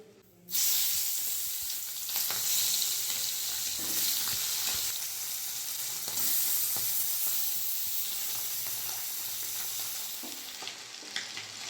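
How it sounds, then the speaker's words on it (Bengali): Tangra fish fry in hot mustard oil with a loud, steady, broadband sizzle that holds for about eleven seconds, with small crackles and spatters throughout and no voices. "এই তেলের মধ্যেই মাছগুলো ভেজে নেব।"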